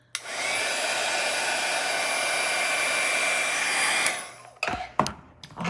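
A hair dryer blows steadily for about four seconds to dry a watercolor painting, a loud continuous rushing hum that cuts off abruptly and is followed by a few brief handling knocks.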